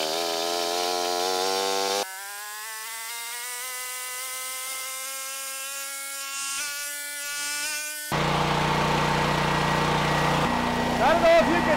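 A small generator engine climbs in pitch as it speeds up toward 60 hertz, a buzzing whine rising in steps and then holding, before giving way to a rougher, noisier stretch.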